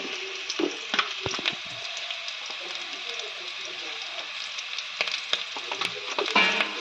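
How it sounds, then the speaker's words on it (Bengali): Small potatoes fry with salt and turmeric in hot oil, giving a steady, dense sizzle close up, with occasional crackles and soft stirring knocks throughout. "নুন আর হলুদ দিয়ে আরো আমরা কিছুক্ষণ আলুটাকে ভেজে নেব।"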